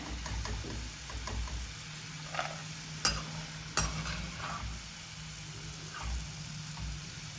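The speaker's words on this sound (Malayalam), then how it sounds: "ഇനി ഇതെല്ലാം ഫ്രൈ ചെയ്തെടുക്കാം" A steady, quiet sizzle of food frying in oil, with a few sharp clicks and pops breaking through now and then.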